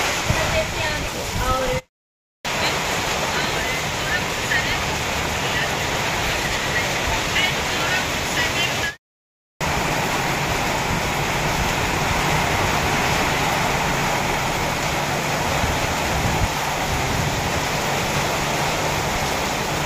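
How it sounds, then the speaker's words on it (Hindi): Heavy rain pours down continuously inside a government office building in Gorakhpur, a loud dense roar of falling and splashing water with two brief silent gaps. "देखिए दोस्तों बारिश भी होने लग गई है, और काफी बारिश होने लग गई, बड़ी बड़ी छींटे पड़ रही है"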